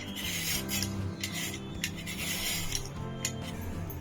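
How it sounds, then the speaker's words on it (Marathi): Carrots are scraped with a peeler for carrot halwa, giving soft, repeated rasping strokes close by with faint clinks, under a low tonal background hum and no talk. "ती पहिली आधी अशी हलक्या हाताने अशी सोलून घ्यायची, त्याची साला काढून घ्यायची।"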